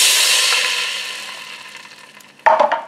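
Broth pours into a hot Ninja Speedi pot after sautéing, giving a loud hiss that fades steadily. A brief clatter of stirring or a utensil knocks near the end, close and alone.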